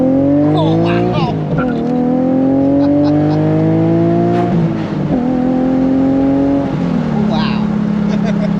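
A car pulls hard away from a standstill at a yard rat ramble event, its engine climbing through several quick gear shifts with rising, stepped tones, loud and close, while people talk and exclaim over it.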